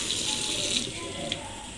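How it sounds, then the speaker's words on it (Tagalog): Two glasses of water are poured into donut dough ingredients in a home kitchen, giving a short, close splashing pour that lasts under two seconds. "lalagyan natin ng dalawang basong tubig"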